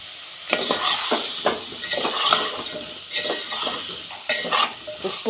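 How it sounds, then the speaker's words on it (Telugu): Pumpkin pieces frying over a medium flame with chilli powder and salt, stirred in a pan: steady sizzle with repeated scraping strokes and light clinks of utensil against metal, close and continuous with no talk. "గుమ్మడికాయ ముక్కలు వేసుకొని మీడియం ఫ్లేమ్లో పెట్టి కలుపుకోవాలండి."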